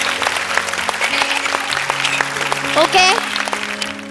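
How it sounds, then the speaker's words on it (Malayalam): An audience at a biryani cooking contest claps together, a fairly loud spread of hands applauding through the stretch. A voice speaks briefly over the clapping, and a few tonal notes sound in the background. "ഒരു വലിയ കയ്യടി കൊടുക്കണം, ഒരു വലിയ കയ്യടി"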